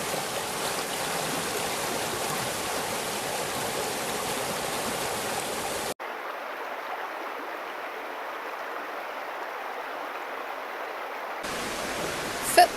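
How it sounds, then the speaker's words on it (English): A babbling little brook in the Lanhydrock woods of Cornwall, a continuous rushing wash of flowing water, close and steady, with a sudden shift in tone midway and no talking. "So just taking a minute to enjoy this babbling little brook."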